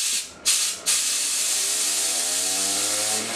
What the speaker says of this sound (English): I'm gonna do a quick test with the compressor.